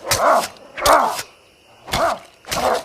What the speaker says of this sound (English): There's also a dog in the truck